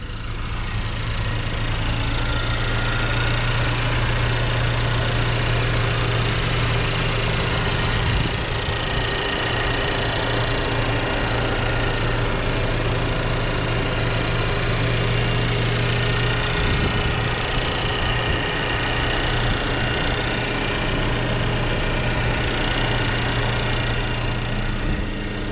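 A Renault Megane GT with a 1.6 petrol engine idling close by, producing a steady, even hum with a low droning tone and light mechanical vibration that stays constant for the whole stretch.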